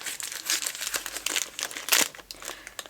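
A plastic bead baggie crinkles and rustles up close in irregular bursts, with one sharper crackle partway through.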